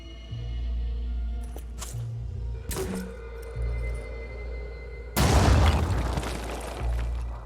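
A Goliath grenade blast blows open a wall in the Phoenix Point strategy game. One loud, broadband burst erupts late and fades quickly. Low droning game music and a few short impacts come before it.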